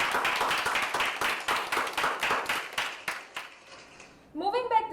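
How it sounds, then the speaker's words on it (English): Clapping from a small group, a steady patter of hand claps that fades out before a voice begins speaking at the very end. "let's give them a round of applause"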